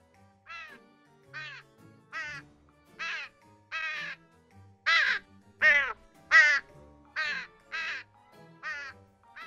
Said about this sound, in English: a crow swooping in towards our head